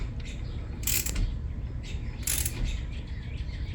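A torque wrench clicking as it tightens the caliper-to-bracket bolts on a 2017 Mazda3 during a brake job, two sharp ratchety clicks about a second and a half apart over a low, steady background hum, close and fairly quiet.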